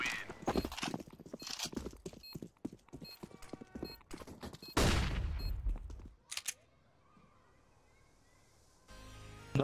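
Gunfire crackles in a video game shootout, with a dense stream of rapid shots and clattering impacts, a loud burst midway, then a quieter stretch before more shots at the end; no speech.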